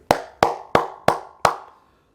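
A single person claps five times in a slow, evenly spaced rhythm. Each clap is sharp, close and distinct, with a short ringing tail before silence.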